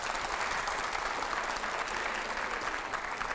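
Studio audience applause on a Hindi TV quiz-style show, steady and dense clapping throughout at moderate level with no talk over it.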